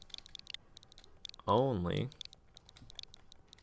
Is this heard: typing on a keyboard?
yes